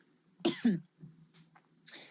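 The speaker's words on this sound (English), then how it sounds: "I've got a cough" Two quick, close coughs in a row, followed by softer throat noises and a breathy exhale.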